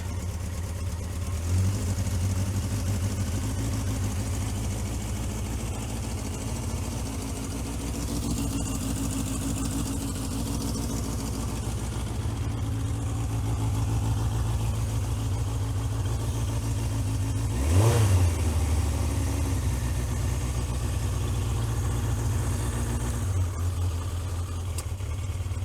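A Yamaha XJ900F motorcycle engine with a failed clutch runs on choke, idling steadily up close, then revs sharply once near the middle before settling back to idle.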